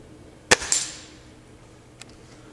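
A Gamo Silent Stalker air rifle fires at a target, one sharp, loud crack followed by a short metallic ring and a fainter distant tick about a second and a half later.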